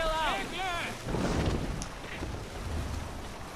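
A boat sailing through water in Assassin's Creed Valhalla, with broadband wind- and water-like rushing throughout and a voice calling out briefly at the start.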